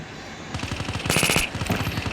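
Rapid automatic gunfire from the Call of Duty video game, a dense rattling burst of shots that starts abruptly, then thins into scattered, fast reports, loud and close with no talk over it.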